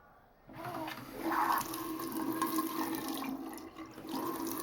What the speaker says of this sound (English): turn on your water supply